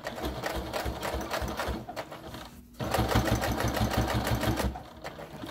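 A sewing machine stitching a makeup brush holder rattles in quick, close, continuous runs of needle strokes, with a brief pause before a final louder burst.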